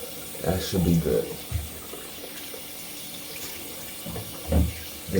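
Tap water runs into a sink while a face is rinsed with cold water, a steady low rush broken by louder splashing bursts near the start and again near the end.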